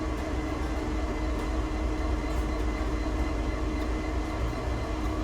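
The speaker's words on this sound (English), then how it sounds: "And we are going to take this train over Sand Patch." A CSX freight train in Train Sim World 2 sets out from Cumberland Yard toward Sand Patch, its engine and wheels making a steady, loud rumble with no pauses and no talk.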